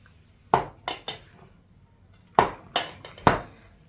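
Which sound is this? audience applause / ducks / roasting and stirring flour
roasting and stirring flour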